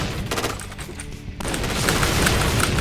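Bursts of machine gun fire in a shooting video game rattle loud and near, with a brief lull midway before a denser, sustained volley resumes.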